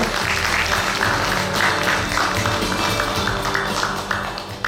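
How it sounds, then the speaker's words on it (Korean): Audience at a Korean traditional music association's officer inauguration ceremony in Daejeon claps for the outgoing president, a steady round of applause with a low background hum throughout. "여러분 박수 부탁드리겠습니다"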